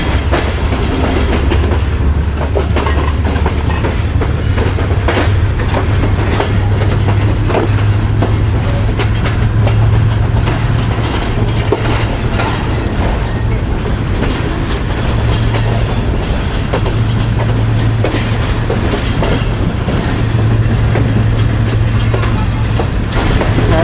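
The Pak Business Express, made up of diesel coaches, runs between Hyderabad and Kotri with a loud steady rumble and continuous clickety-clack of wheels, a low droning hum persisting throughout.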